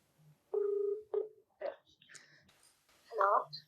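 A telephone being dialed for a call: a few short electronic tones and beeps, close and clear, separated by quiet gaps, with soft voices murmuring between them.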